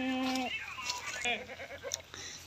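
Beetal goats of the Amritsari nagri type bleat loudly and close at a livestock sale, one long wavering bleat followed by several shorter, quavering calls, with someone talking over them.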